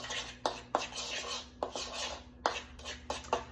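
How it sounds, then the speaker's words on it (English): A spoon scraping and clinking against a dish while stirring shawarma spices into portabello mushrooms, with sharp metallic taps at irregular intervals over a soft continuous rubbing, close up and with no voices. "I can just move them around with a spoon"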